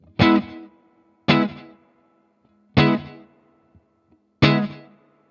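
Four separate strummed chords through a Fender Tonemaster amp (Twin and Deluxe Reverb Blonde) with reverb, each striking loudly and then trailing off in a long, fading reverb tail, spaced about a second and a half apart, with no talking.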